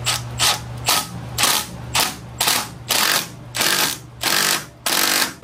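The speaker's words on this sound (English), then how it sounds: "I'm just gonna go ahead and install frame slider on this side, and then we can start torquing it to specification." A ratchet tightens frame slider bolts on a 2018 Triumph Street Triple 765 RS, giving about nine loud, close bursts of rapid clicking in a steady back-and-forth rhythm, with no one speaking.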